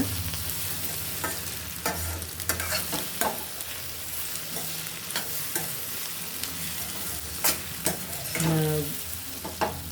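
Onions sautéing in a pan for seeni sambol, a Sri Lankan onion relish, with a constant sizzle broken by repeated sharp scrapes and clatters of a stirring spoon throughout.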